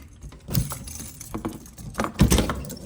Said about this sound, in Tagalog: May susi ata ako dito eh.